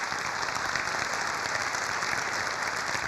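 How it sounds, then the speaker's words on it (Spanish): Audience applauding a talk on brands, in praise of the three-time world champion blind football team; dense, steady clapping fills the whole stretch at even loudness with no voices over it. "Un aplausito para ellos, ¿puede ser?"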